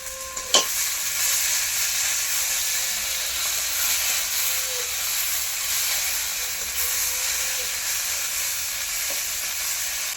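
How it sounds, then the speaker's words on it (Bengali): Onions sizzle steadily in a hot pan, with occasional scrapes and clinks as a spoon stirs them, a continuous close hiss of frying with no voices. "পেঁয়াজটা ভালো ভাজা হয়ে গেছে,"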